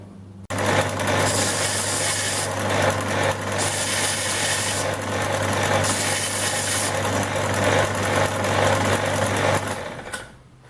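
Loud, sustained whine and grinding of a friction disc cutting through hardened steel on a repurposed angle grinder motor. It runs close and unbroken for about nine seconds with slight surges, then spins down at the end.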